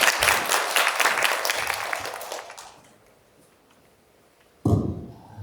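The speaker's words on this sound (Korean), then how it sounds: "다시 한번 큰 박수 부탁드립니다." Audience applause at an academic conference on international development cooperation, brisk and full for a few seconds before thinning out and fading, followed by a short loud sound near the end.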